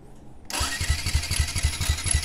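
A Yamaha R15 V2 motorcycle with a no-start fault is electric self-started, cranking in a steady rapid rhythmic chug after a click, loud and close, without catching.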